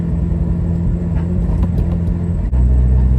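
A K20-swapped first-generation Honda Civic driving, its engine giving a steady, loud low rumble close by with a brief dip near the end before the drone resumes.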